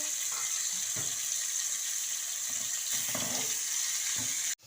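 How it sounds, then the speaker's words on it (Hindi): Minced chicken frying in a pan for a kachori filling, giving a steady, close sizzling hiss with a few faint stirring scrapes, cut off abruptly at the end. "अब हम इस चिकन के कीमे को इसमें शिफ्ट करेंगे और अच्छी तरह करेंगे फ्राई, ताकि इसका पानी अच्छी तरह से ड्राई हो जाए।"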